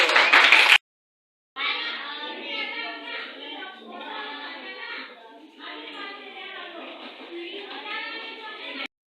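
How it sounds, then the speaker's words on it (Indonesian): A classroom group of children and teachers claps for a student named Andi during an academic coaching session, a brief burst of hand clapping followed by several seconds of lively mixed applause. "kasih tepuk tangan untuk Andi dulu"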